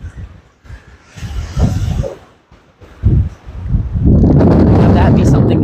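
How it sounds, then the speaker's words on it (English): Strong outdoor wind gusts and buffets the microphone in uneven surges, dropping briefly before building into a loud, sustained roar at the end. "The wind is really kicking in, guys."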